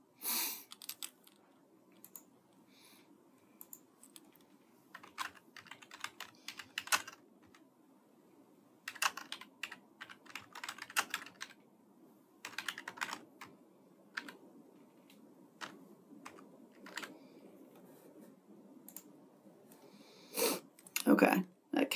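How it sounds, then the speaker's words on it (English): Bursts of computer keyboard typing during a recorded lecture, clustered keystrokes in short runs separated by pauses, close and fairly quiet, with soft breathing and sniffs in between. "I wonder if I can type that in."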